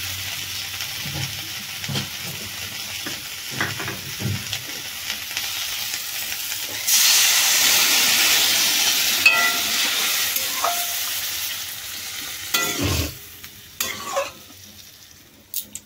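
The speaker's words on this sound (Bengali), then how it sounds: "শুকো মাছগুলো দিয়ে নেড়ে নেবো, সামান্য জল দেবো।" Dried fish is stirred and fried in a pan, with a steady close sizzle and repeated scraping strokes of a spatula; the hiss swells loudly partway through, then eases back to stirring scrapes.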